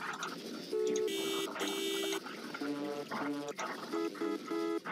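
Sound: car horn in a video game

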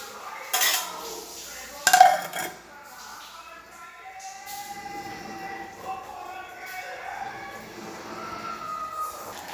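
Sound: covering a pot of jackfruit seed curry with lid

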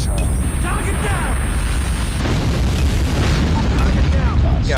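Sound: nuke explosion in Call of Duty Mobile video game

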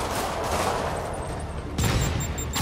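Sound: rockets firing and exploding in the video game Spider-Man PS4

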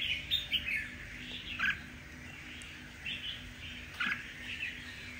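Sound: red-whiskered bulbul birds chirping, from Cao Bang

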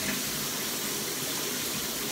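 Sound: shower water running

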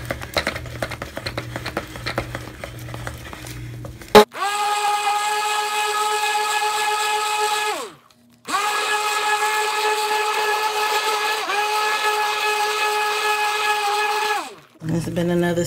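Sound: stick blender running

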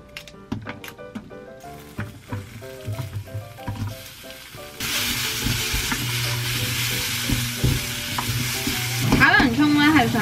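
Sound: stir-frying onions in avocado oil

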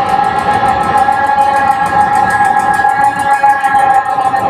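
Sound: electric guitar loop through Line 6 M13 synth octave, cave reverb

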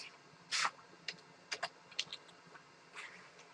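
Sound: computer keyboard typing

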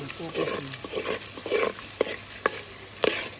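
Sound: potato poha being stirred with a spoon in a pan

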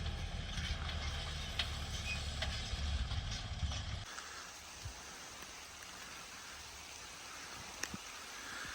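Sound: rain starting to fall

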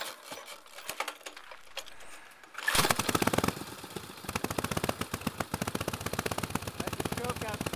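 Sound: 1915 Harley-Davidson motorcycle engine running

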